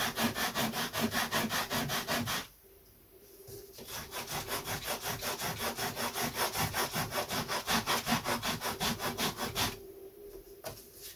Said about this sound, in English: I just sand carefully down till I get to the ribs.